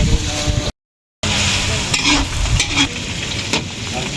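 Meat and crabs frying and sizzling in a pan at a fishpond cookout, with a steady close hiss, a brief dropout, and stirring scrapes with soft clinks.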